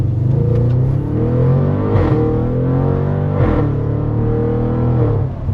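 An 800 hp Audi RS7 running on methanol pulls hard on a public road, its engine droning and climbing in pitch, with two sharp burbling burps at the gear shifts before the revs rise again.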